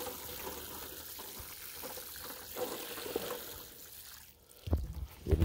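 Water pours and trickles into a 15 gallon felt pot as a plant is watered, a soft continuous splashing that turns briefly louder and more gurgling toward the end.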